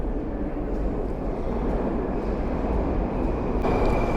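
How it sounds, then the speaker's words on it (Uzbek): Metro train pulling into Beruniy station on an underground line, a loud, steady rumble filling the platform, with the roar swelling slightly toward the end and no talking. "Xullas, hozir Beruniyga metro keldi."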